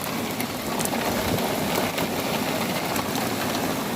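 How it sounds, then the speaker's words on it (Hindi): Heavy rain pours outside an open window in Italy, a dense continuous hiss with scattered spattering drops, close and fairly loud with a low rumble underneath and no speech. "तो ये देखिए अभी भी बारिश हो रही है"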